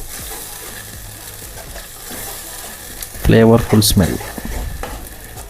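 Masala sizzling and being stirred in a pan for home-style chicken curry, a short burst of frying and scraping that rises midway over a quiet kitchen background, with a voice speaking briefly.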